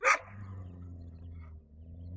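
A white dog gives a single sharp warning bark, close and loud, followed by a low, steady growling rumble that carries on beneath for a couple of seconds.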